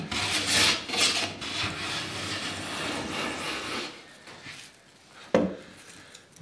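A freshly sharpened hand plane shaves fine curls from a piece of pine 2x4 in steady rasping strokes that fade, followed by a sharp knock.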